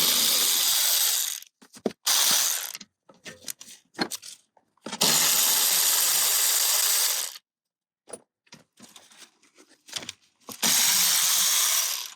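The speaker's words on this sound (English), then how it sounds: "so the rest of this is to remove the rest of the 10 millimeter nuts and bolts" A hand ratchet works 10 mm nuts off a vintage Honda CL77 engine, rapid rasping clicks in several bursts of a second or two, with pauses and small metal handling knocks between, loud and close.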